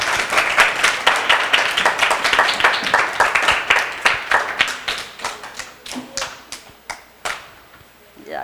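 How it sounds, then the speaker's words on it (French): An audience at a children's Christmas dinner claps in a lively, close burst of many hands that thins out to a few scattered claps toward the end. "Et on applaudit encore une fois Larissa Georges."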